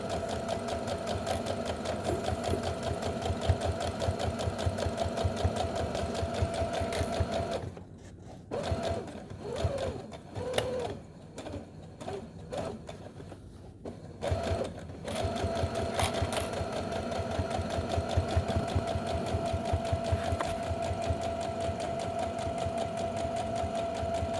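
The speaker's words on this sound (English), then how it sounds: "And sew it up." A sewing machine stitches a homemade fabric face mask, its steady motor whir running near and loud with a short pause partway through before the stitching resumes.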